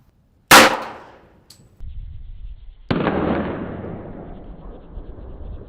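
Gunshot of a large, fat bullet striking a full beer can: one sharp, loud crack with a short decaying tail, then quiet, followed by a second louder burst of noise that fades slowly.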